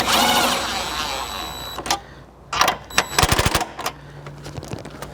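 Tightening a car battery terminal under the hood of a 2015 Subaru Crosstrek, a cluster of quick metallic ratcheting clicks following a few scrapes and knocks, close and fairly loud.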